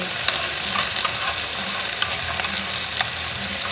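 Potatoes frying in a pan are stirred, giving a steady close sizzle broken by light scraping clicks of the utensil against the pan.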